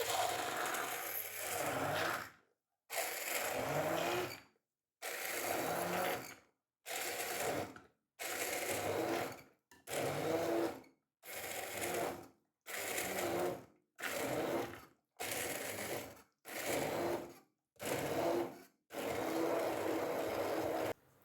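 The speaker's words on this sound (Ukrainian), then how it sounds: "1 кг порички помити та очистити від гілочок та перебити блендером." A kitchen blender puréeing redcurrants runs in short pulses, roughly a dozen loud whirring bursts separated by brief silent pauses.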